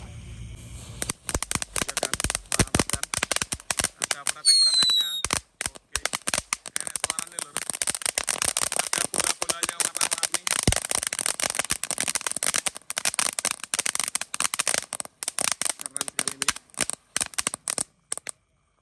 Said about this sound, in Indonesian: Selanjutnya ini ada mercon air mancur Blooming Flower. Kita nyalakan.